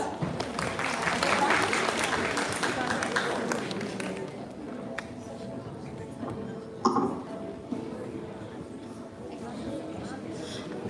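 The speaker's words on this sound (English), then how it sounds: "A round of applause." An audience with people in a balcony applauds a correct quiz answer at a Founder's Weekend event, a dense wash of clapping that fades over a few seconds, followed by a few scattered taps.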